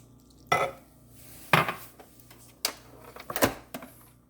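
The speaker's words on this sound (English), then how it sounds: "Let mix until combine" Utensil scraping and knocking against a mixing bowl while flour and milk are mixed into Oreo pound cake batter, several distinct clanks and scrapes in a loose rhythm with quiet gaps between, close by.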